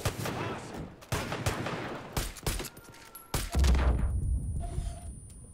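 Bursts of gunfire from the video game Far Cry ring out in several rapid volleys separated by short pauses, loud and close, with a sharp final burst trailing off.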